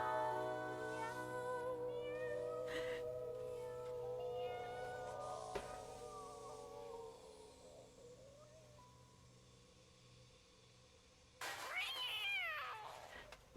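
A stream alert plays a harmonized cat meow, with layered, pitched meows stacked into a drawn-out, chord-like yowl that fades, followed by a second bright meowing burst near the end; it is quiet overall and has no speech.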